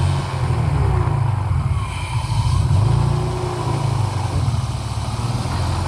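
A BMW E30 fitted with an M50 engine, with a vacuum leak, revving from idle: a steady deep engine drone that swells in pitch around the middle and then settles back down, loud and close.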